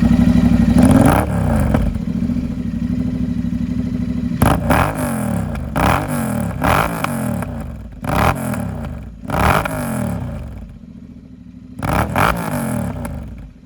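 Royal Enfield Continental GT 650 or Interceptor fitted with an SS Motocorp 2-into-1 exhaust, idling with a steady rumble and then blipped in five or six sharp, loud revs that fall back each time, heard up close with no talk.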